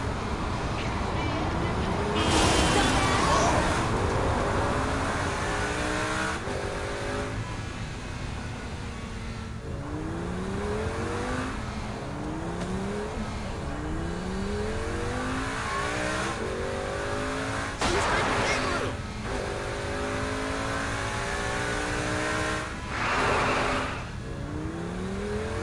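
A car revs and accelerates in Saints Row 4, engine pitch rising and falling through repeated gear climbs, with occasional bursts of louder noise and talk faintly underneath.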